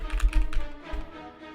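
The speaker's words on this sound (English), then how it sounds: "This is me typing it quietly, but also I can try typing it loudly." Loud, fast typing on a Slay the Spire themed mechanical keyboard, a close, dense burst of clacking keystrokes that thins out toward the end, with no talking.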